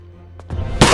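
A single sharp animated gunshot bursts out loud at the end, preceded by a brief low hum and a couple of faint clicks.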